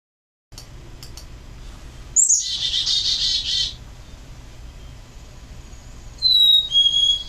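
A phoebe gives a clear, high whistled call, heard as two short bursts separated by a pause over a quiet outdoor background, with no voices.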